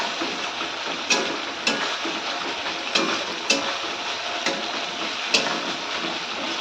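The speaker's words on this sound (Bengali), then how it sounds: "এবার আমি মশলাটাকে ভালোভাবে কষিয়ে নেব।" Spice paste frying in oil in a pan for a meat curry, a steady close sizzle with occasional soft stirring clacks at irregular intervals.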